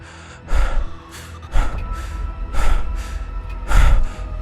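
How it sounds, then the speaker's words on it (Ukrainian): Heavy, uneven breaths close by, four or five ragged gasps and exhales separated by short pauses. "Єдине, що ми тепер могли чути, це звуки нашого уривчастого дихання."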